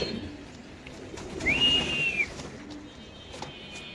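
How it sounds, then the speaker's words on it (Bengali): A single rising, whistle-like pigeon call stands out briefly over quiet background rustling at a pigeon farm in Mirpur, Dhaka, with a few soft ticks around it. "আমরা যদি আপনাদের কবুতরের ডাকটা একটু দেখাই দেই"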